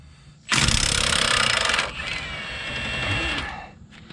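A power tool loosening a bolt on a Dodge Ram dual steering stabilizer buzzes loudly in a rapid hammering burst of about a second and a half, then runs on at a slightly lower, steadier pitch before stopping.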